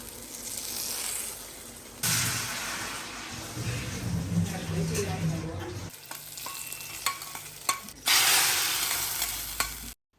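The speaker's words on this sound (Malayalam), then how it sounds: "മാങ്ങക്കറി ഉലുവയും കടുകും കറിവേപ്പിലയും പച്ചമുളകൊക്കെ ഇട്ടിട്ട് നമ്മുടെ മാങ്ങക്കറീനെ ഫസ്റ്റ് നമുക്ക് താളിച്ച് വയ്ക്കാം" Fenugreek, mustard seeds, curry leaves and green chili hit hot oil to temper a mango curry, crackling and sizzling loudly up close while a spoon stirs and scrapes the pan.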